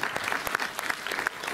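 A cinema audience at the Méliès in Montreuil claps in a brief, steady burst of applause of moderate loudness, with no talk over it.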